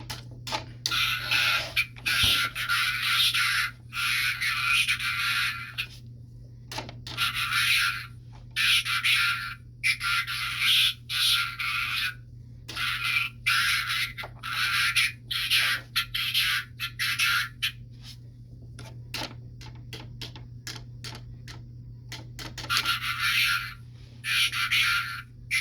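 Buzzy electronic chirps and warbling bursts from a Blockees Soundwave toy robot come in irregular spurts over a steady low hum, with no talking.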